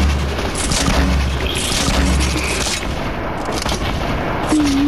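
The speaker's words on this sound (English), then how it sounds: "Wait, Ben, I'm gonna throw some grenades in." Grenade explosions in the video game Fortnite: several heavy booms go off within a dense, steady wash of game noise, loud and fairly close, with no talking over them.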